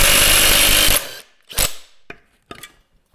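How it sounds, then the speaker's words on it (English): An impact wrench hammers at the big flywheel nut on a vintage snowmobile engine: a loud, rapid, rattling burst for about a second, then several short, sharp follow-up bursts. "I'm going to use my impact wrench to do that"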